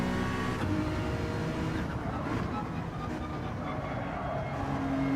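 Pack of race cars racing in Gran Turismo 7, a steady blend of engine roar and road noise running throughout at constant loudness, with no clear single pass-by.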